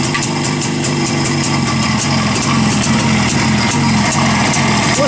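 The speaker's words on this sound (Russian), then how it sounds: "сейчас мы будем заводить этот ЧЗ прекрасный." A Cezet (ČZ) 350 Typ 472.5 motorcycle engine runs at a steady idle, its loud, even, rapid thumping close by and alone, with a regular ticking rhythm throughout.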